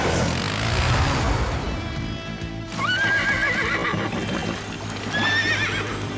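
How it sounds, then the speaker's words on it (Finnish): A pony whinnies twice in the cartoon PAW Patrol, loud and close over a busy music-and-effects bed, with clip-clop hooves alongside. "Poni nimeltä Poniisa. Mutta se täytyy saada ensin kiinni"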